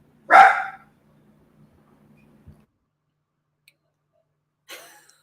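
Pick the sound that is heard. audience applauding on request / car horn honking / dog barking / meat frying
dog barking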